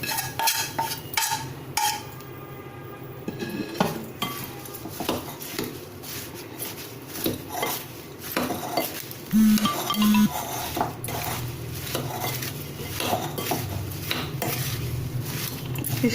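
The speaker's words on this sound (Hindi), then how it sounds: "हमारा मसाला भुन गया है और इसमें इस तरह से हम इसको मिला देंगे।" A spoon stirs fried spice masala into mango pickle, a long run of close scraping, clinking and knocking against the container, with brief pauses and no talk.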